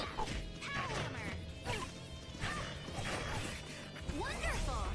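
Power Hammer attack impacts land in the Tales of Vesperia video game battle, several crashing whacks over busy game effects and music, with character voices calling out.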